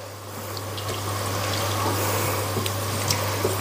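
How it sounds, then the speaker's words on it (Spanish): Hake simmering in green sauce in a pan gives a steady, close bubbling and watery churn with a constant low hum underneath, no voices. "Hay que dejarlo cocer, hervir un poco"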